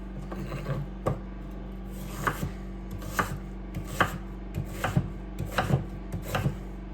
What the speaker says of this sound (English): We are going to cut it up a little bit so you're not just biting down onto a big, huge piece of onion